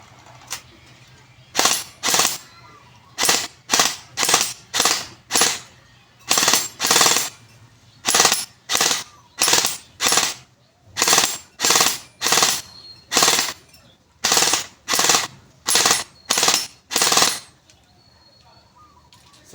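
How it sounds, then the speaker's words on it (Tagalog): A modified HK416D toy gun fires on full auto in loud, close bursts of rapid mechanical clacking. The bursts repeat in a regular rhythm with short pauses between them, and a quiet hum sits underneath. "Test fire, full auto na po agad."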